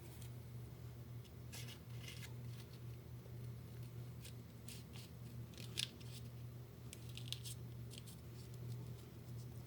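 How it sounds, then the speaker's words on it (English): Scissors snip repeatedly at close range, sharp crisp cuts at an uneven pace over a low steady hum. "I can get my scissors down in there, perhaps"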